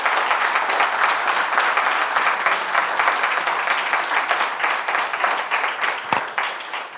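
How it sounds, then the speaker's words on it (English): Warm audience applause for a panel of speakers, an even, sustained patter of many hands clapping throughout, fairly close and full, easing off slightly toward the end. "Please give a very warm round of applause to our panelists."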